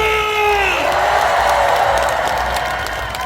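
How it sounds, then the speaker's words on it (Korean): Concert audience at the Muju Firefly Festival applauding and cheering loudly, with shouts and whoops rising over sustained clapping that holds steady before easing slightly at the end. "다 같이 박수와 함성! 한 번 더 박수와 함성!"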